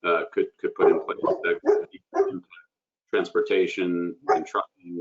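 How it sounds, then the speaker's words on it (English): A dog barks in the background under steady close talking, the barks blending into the speech rather than standing alone. "sorry for my dog in the background there"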